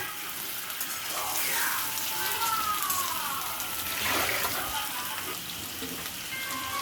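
Prawns frying in hot oil in a home kitchen, a steady broadband sizzle and crackle that carries on throughout with some stirring noise, and no one speaking.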